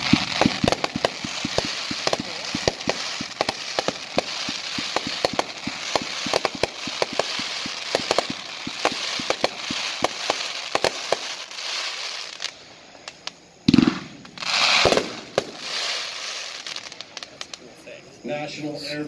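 A Cutting Edge National Airborne Day firework cake, a 30-shot, 500-gram, 4-1 packed item, fires a steady run of sharp crackling bursts outdoors, ending in a few louder booms and a crackling tail.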